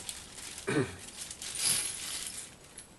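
A packet of nails drops into a box during assembly of a flat-pack bee hive roof, giving one short rattling clatter, fairly close and moderately loud, over a quiet room.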